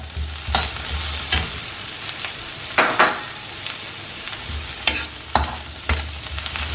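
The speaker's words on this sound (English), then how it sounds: "just put the finely cut spring onions into this. The flame is now on low. We don't want the onions to get burned." Finely chopped spring onions frying over a low flame for a Chinese egg stir fry, a continuous sizzle broken by repeated scraping stirs of a utensil against the pan, close and clear with no talking.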